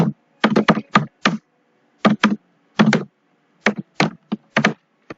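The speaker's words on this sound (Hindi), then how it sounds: "यहाँ पे टाइप करिए विंडोज सिक्योरिटी" Someone types on a computer keyboard, entering a search on a Windows PC in short bursts of crisp, close key clicks separated by brief pauses, with no talking.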